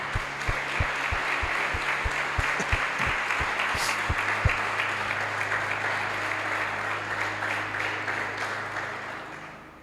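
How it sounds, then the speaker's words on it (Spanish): A church congregation applauds steadily, a dense wash of many hands clapping at moderate distance, with a few low rhythmic thumps at the start, sustained for about ten seconds. "dale un aplauso a Dios por los hermanos"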